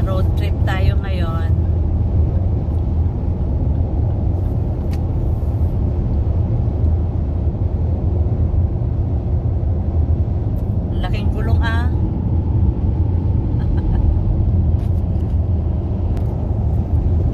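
Large big-wheeled truck rolling past on a quiet rural road in Alberta, a steady low rumble holding throughout, with a person talking over it near the start and again midway.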